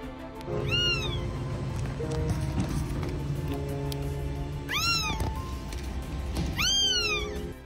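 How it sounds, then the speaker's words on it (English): Kittens that have fallen into a sewer drain cry out with high, plaintive meows, about three separate calls spaced a couple of seconds apart over steady low background noise. "The helpless cries of the kittens falling into the sewer drain called the humans for help."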